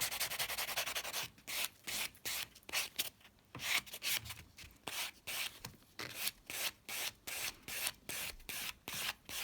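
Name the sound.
buffing acrylic nail surface to smooth file scratches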